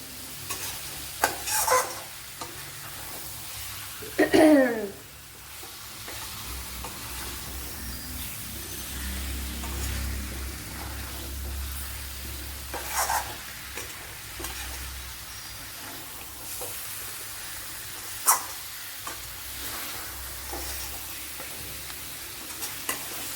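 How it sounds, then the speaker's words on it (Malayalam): Chicken pieces fry in a pan with a low, steady sizzle while a spoon stirs them in a few distinct scraping strokes, close and moderately quiet, with no speech. "ഇപ്പോൾ ചിക്കൻ്റെ കഷ്ണങ്ങൾ പൊടിഞ്ഞു പോവാതെ വേണം ഇട്ട് കൊടുക്കാൻ"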